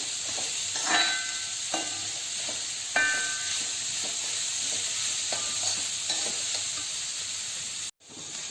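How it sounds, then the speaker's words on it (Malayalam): Ginger and green chilies sauté in a pan with a steady, close sizzle, broken by repeated scraping and clinking stirs at an uneven rhythm, and a brief cut near the end. "ആ പച്ചമുളക്, ഇതൊന്നും കൂടെ വഴറ്റിയെടുക്കുക"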